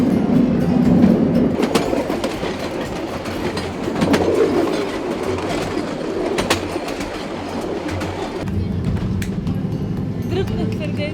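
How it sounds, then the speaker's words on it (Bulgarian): A narrow-gauge train rumbles past steadily with rhythmic clacking of wheels in the Rhodope Mountains, while people talk nearby and birds call faintly in the background. "Толкова е голям този влак."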